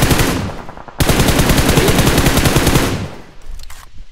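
Rapid automatic gunfire in a tournament shooter video game, a loud dense burst of shots lasting about two seconds, followed by a few fainter scattered shots.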